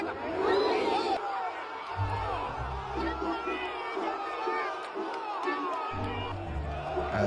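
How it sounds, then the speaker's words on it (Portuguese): Corinthians supporters packing the away section of Barradão stadium after a Brasileirão win, a dense roaring crowd of cheering, whooping and chatter that swells and ebbs continuously, with a low rhythmic chant pulsing underneath. "A torcida foi uma loucura."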